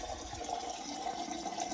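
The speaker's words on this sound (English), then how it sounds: "So what I'm going to do is I'm going to add cold water" Cold purified tap water running into a measuring cup in a home kitchen, a steady soft gushing stream with a faint, even tone and no talking.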